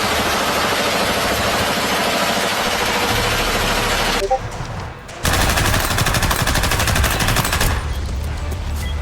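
Rapid automatic fire from an M249 machine gun in War Thunder's infantry combat, loud and dense bursts with a brief pause midway, over a low engine rumble and other battlefield noise.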